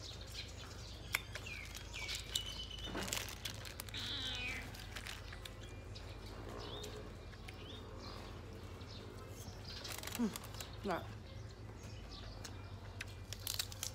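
A cat meows repeatedly and drawn-out at a home kitchen breakfast, with wavering calls spread over the stretch while birds chirp faintly in the background.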